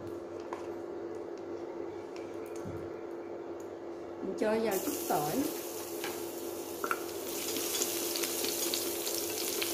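Chopped vegetarian ingredients drop into a little oil in a pot and begin frying, a broadband sizzle surging in partway through and continuing steadily over a background hum while a person speaks.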